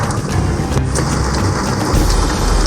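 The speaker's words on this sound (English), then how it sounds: "It's just a deluge." Heavy rain pours steadily and loudly throughout a deluge in Georgia, with deep thunder rumbling underneath; no voices.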